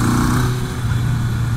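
A 1982 Kawasaki KZ750 LTD motorcycle engine runs while riding, with a loud, close, steady droning rumble and wind noise, held for a short moment without any voices.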